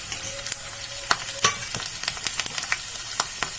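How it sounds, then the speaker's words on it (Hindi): Fresh curry leaves hit hot oil in a tadka pan and crackle with a burst of sharp pops and spitting, then settle into a steady, close sizzle with scattered crackles for a few seconds. "अब इसमें 5-7 कड़ी पत्ते डाल देंगे हम।"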